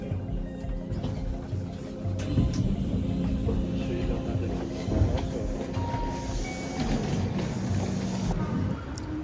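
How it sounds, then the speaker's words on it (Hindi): Airport Express train in Japan departing, a steady loud rumble of rolling wheels and carriage noise with faint clatter, sustained close by throughout with no pauses. "Of course, exactly on time train चल चुकी है अपनी। The Airport Express."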